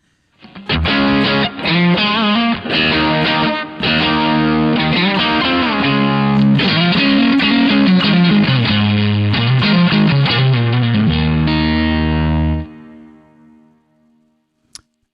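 Electric guitar with a thick, overdriven tone plays a steady run of chords and single notes, loud and close, then rings out and fades at the end.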